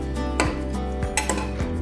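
Cooked rajma (kidney beans) being mashed in a pot for a North Indian rajma gravy, heard as a few distinct metallic scrapes and knocks of a utensil against the pot at an uneven pace, close and fairly loud.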